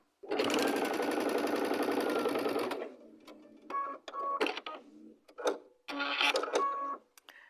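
A sewing machine stitching quilt block pieces together: one long, loud, even run of rapid needle clatter, then several short stop-start bursts with quiet handling between.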